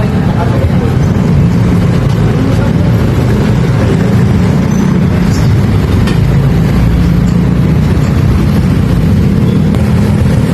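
A motorized tricycle engine drones steadily through the whole ride, a continuous low rumble that stays loud and unbroken with no clear voices over it.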